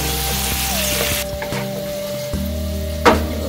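Garlic tofu sauce sizzles in a pan with a steady, close, loud frying hiss, and brief scraping knocks of stirring come through, with no talk.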